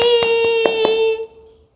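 A few quick, light hand claps at a steady rhythm, praising a small child's recited poem at home, sound over a sustained electronic tone that cuts off abruptly.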